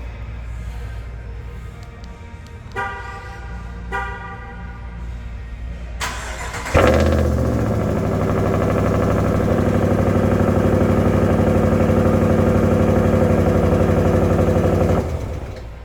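A few chimes and clicks, then a 2024 RAM 1500 pickup truck engine with an upgraded exhaust cranks and fires into a deep, throaty idle that rumbles steadily and loudly before shutting off.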